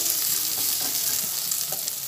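Bitter gourd sizzles and crackles steadily in a hot pan, with occasional soft scraping as it is stirred, before pumpkin pith is added.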